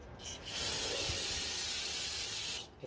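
Cleaner sprayed onto a brake part from an Infiniti G37S big brake kit job, a single steady hiss lasting about two seconds, close and fairly loud.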